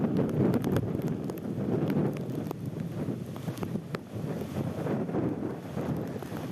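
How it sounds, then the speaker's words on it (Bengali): Stormy wind from Cyclone Remal at Kultali, with rain expected alongside, roars steadily as broad gusty rushing noise close to the microphone, buffeting throughout with no voices. "এই মুহূর্তে ঝোড়ো হাওয়া বইছে কুলতলিতে"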